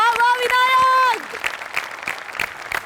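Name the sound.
audience applause for a performance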